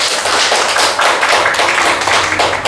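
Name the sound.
audience clapping at a Buddhist dharma meeting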